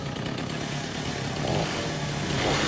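A cartoon chainsaw revs and cuts with a steady, loud buzzing drone that swells slightly toward the end, heard alone with no voices.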